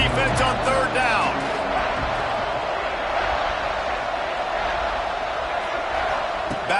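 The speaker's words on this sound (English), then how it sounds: "The Red Raider crowd rising to the occasion to help its defense on 3rd down." Texas Tech Red Raider football crowd roaring on third down against UNLV in a stadium, a dense, steady wall of cheering and noise that holds throughout, with a few brief voices rising over it early on.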